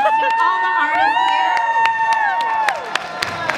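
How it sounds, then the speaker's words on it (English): An audience at a RAW Artists showcase in Minneapolis cheers and claps for the artists, with loud whooping voices over scattered clapping, sustained for a few seconds. "can you guys just give a round of applause to all the artists"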